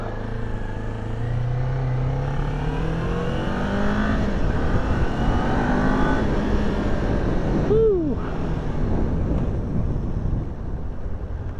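A Kawasaki Ninja 400 motorcycle engine running and revving, a steady droning hum with pitch rising and falling through the revs and a short sharp sweep near the end, over wind noise.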